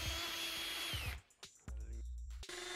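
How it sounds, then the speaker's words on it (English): A power drill with a 16mm auger bit whines steadily as it bores through a wooden door, then cuts off, followed by a short pause and the motor starting up again. "Using your drill and 16mm auger bit, drill holes through the door for your handle spindle"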